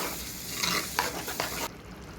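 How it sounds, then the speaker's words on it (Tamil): A spoon stirs tomato paste through a sizzling fish curry in a hot pan, with a few scraping strokes over a steady fry that drops off abruptly near the end. "நல்லா கிளறி விடுங்க."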